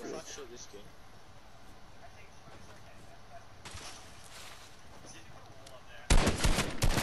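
Rapid automatic gunfire in the video game Fortnite, a loud burst of rattling shots near the end after quieter stretches, with a person talking during the clip.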